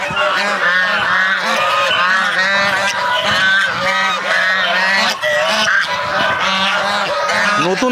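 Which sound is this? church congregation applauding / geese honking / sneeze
geese honking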